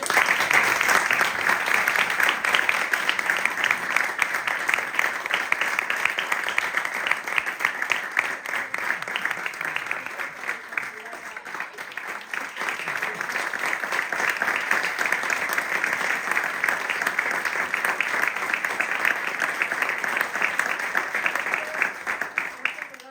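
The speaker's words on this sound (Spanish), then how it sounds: "un fuerte aplauso para el maestro" A seated audience at a Spanish literary gathering applauds the maestro Mariano in a long, sustained wave of dense clapping that dips slightly midway, then swells again before fading.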